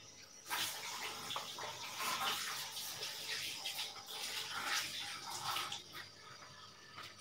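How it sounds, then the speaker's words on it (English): Tap water runs steadily into a sink while hands are rinsed off after mixing a thin, runny batter in a home kitchen, a close, continuous splashing gush that lasts throughout with no talking. "Wash my hands off."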